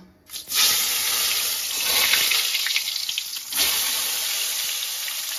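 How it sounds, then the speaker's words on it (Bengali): Pieces of pointed gourd (potol) drop into hot oil and set off a sudden loud, hissing sizzle that holds steady for several seconds, surging again briefly partway through. "এখন পটলগুলা আমি ছাড়মু, ভাজমু"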